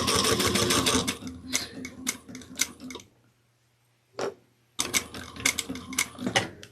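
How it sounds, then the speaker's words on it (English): A sewing machine back-stitching a drawstring satchel runs in close, loud whirring bursts, stops for about a second with a brief clunk, then starts stitching again. "And I'm going to back stitch."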